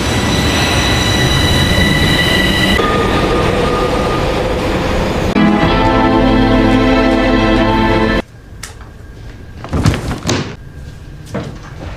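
A passenger train rumbles loudly with humming, whining drive tones and clattering wheels, then the roar drops away to a quieter interior with scattered knocks and door-like thuds.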